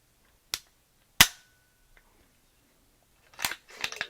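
CZ Bren 2MS rifle shots on a range, two sharp, loud isolated cracks about a second apart, followed by fainter clattering mechanical handling noises.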